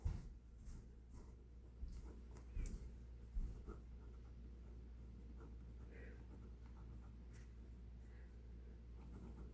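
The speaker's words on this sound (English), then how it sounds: "Let's write that down." Pen or pencil writing an answer on a worksheet during a statistics lesson, soft intermittent scratching strokes close up, otherwise quiet.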